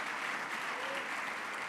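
An audience at the Bloomberg CityLab conference applauding after a dance performance: a brief burst of dense, steady clapping from a large crowd, fairly distant and even throughout.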